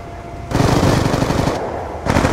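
Sustained automatic gunfire in the video game Black Ops 2 comes in two loud, close bursts of rapid shots, the first long and the second starting near the end, with no talking over them.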